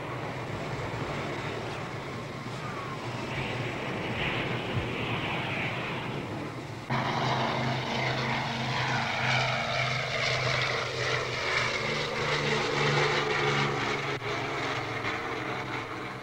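Military jets returning to the airbase at Da Nang roar steadily as they come in to land, a broad sustained engine rumble that grows louder and fuller partway through, with no talk over it.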